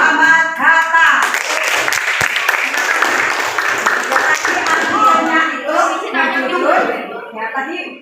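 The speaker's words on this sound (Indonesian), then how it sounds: "Ya, tepuk tangan untuk kelompok Muhammad Hatta." Applause from a classroom of students for a student group, with steady clapping lasting several seconds while voices talk and call out over it.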